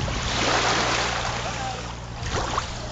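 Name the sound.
sea waves at a beach resort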